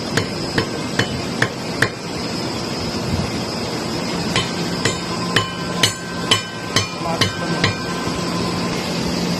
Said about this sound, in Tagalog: And we're going to mount this new bearing here.